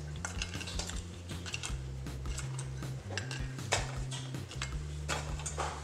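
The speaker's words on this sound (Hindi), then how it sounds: "एक लेंगे प्लेट जिसमें हमने सर्व करना है, इसमें डालेंगे पापड़ियाँ अपनी" Papdi crisps set down one by one onto a serving plate for dahi papdi chaat, giving a string of light clinks and taps over a low steady background hum.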